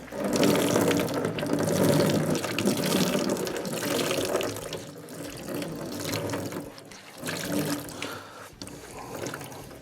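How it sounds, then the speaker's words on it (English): Water splashes and streams as clothes from a hand-cranked Wonder Wash washer are wrung out by hand, loud close pouring that comes in uneven surges. "So just go through, wring all of these out."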